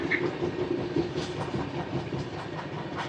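Janmabhoomi Superfast Express 12805 from Visakhapatnam to Lingampalli rolling on rails, heard from inside a coach second from the engine: a steady broadband rumble with faint rhythmic clatter throughout.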